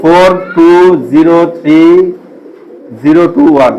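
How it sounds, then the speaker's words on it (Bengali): A Belgian Kittel pigeon coos up close in about five throaty, rolling bursts with short gaps between them, the calls loud and clear against a quiet background. "এই যে এটা কবুতর"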